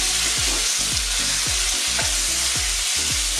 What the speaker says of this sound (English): You can hear it sizzling away, and in we go with our chicken.